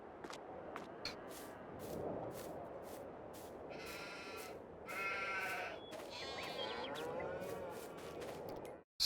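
Several sheep bleat in the Farming Simulator 22 video game, with repeated short calls from a few animals scattered over a steady ambient farm backdrop, fairly close and moderately loud.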